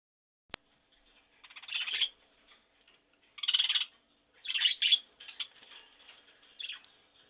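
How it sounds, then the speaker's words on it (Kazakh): A red parrot gives a series of short, raspy, high squawks in separated bursts, heard clearly against near silence, after a single sharp click at the start. "Бұл қызыл тоты құс."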